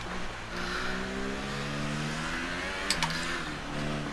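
Formula One car engine in the F1 2018 racing game, a loud steady high-pitched whine with rising gear-by-gear pitch sweeps, held close throughout with no talk.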